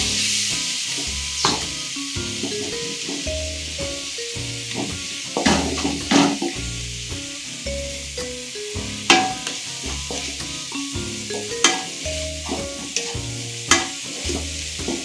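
Tomato masala for gobi manchurian fries loudly in a pan. Steady sizzling runs throughout, with repeated scraping and knocking stirring strokes, and a tonal background sound is also present.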